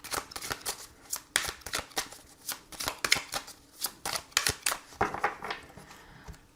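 Tarot cards are shuffled by hand in a steady run of crisp, papery riffs and slaps, about two dozen quick bursts over several seconds, close and fairly quiet with no talking.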